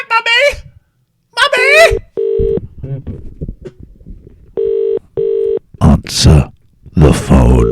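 A telephone line gives steady, flat electronic tones in several separate bursts of about half a second, sounding like a dial tone and dialing beeps, while a voice talks loudly between them.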